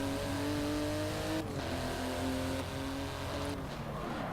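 In Forza Motorsport 7 on Xbox One, a race car engine revs hard through its gears, with steady climbing pitch and quick drops at each shift, loud and close with no talking.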